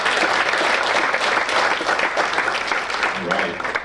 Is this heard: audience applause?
yes